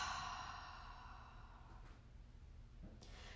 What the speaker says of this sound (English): Exhale the air out.